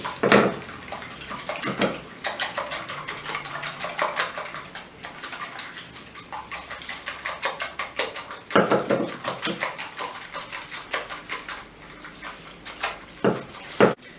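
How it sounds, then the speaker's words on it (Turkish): Three eggs whisked in a bowl for an okra omelette, quick clinking and sloshing strokes coming in busy bursts with brief pauses, close and without talk. "3 tane yumurtamızı güzelce çırpıyoruz arkadaşlar"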